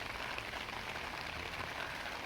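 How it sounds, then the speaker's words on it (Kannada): Rain falls outside a toddy shop in the Kerala hills, a soft, even hiss of drops that stays faint and unbroken from start to finish with no voices. "ಮಳೆ ಬರ್ತಾ ಉಂಟು"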